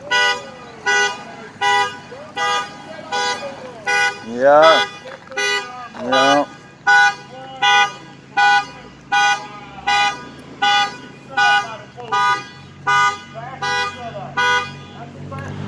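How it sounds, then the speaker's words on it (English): A car alarm blares at the roadside, a loud repeating tonal honk pulsing in a steady rhythm with a brief warbling siren-like sweep partway through, while someone briefly speaks over it. "Tried to cut the alarm off?"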